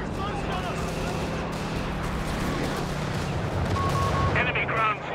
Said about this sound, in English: Just dropping down some artillery there.